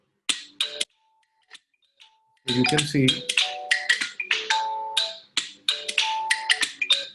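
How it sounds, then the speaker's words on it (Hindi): A smartphone set to silent rings anyway after Find My Device's play-sound command. A repeating chime-like ringtone pattern sounds loud and close, with someone speaking briefly over it. "ये आप देख रहे हैं कि मेरा डिवाइस साइलेंट पे था और स्क्रीन भी बंद थे, लेकिन फिर भी रिंग हो रहा था"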